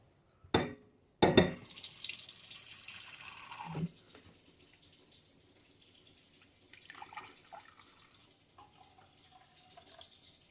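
Water from a tap pours into a cooking pot for a vinegar pickle brine, a splashing rush lasting a few seconds after a couple of sharp knocks, then quiet kitchen handling noises.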